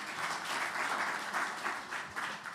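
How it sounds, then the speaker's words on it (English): Audience applause at a high-level Pacific climate champions panel, a steady burst of many hands clapping in a hall, moderately loud and continuous for a few seconds with no talking. "Can you please give them another round of applause?"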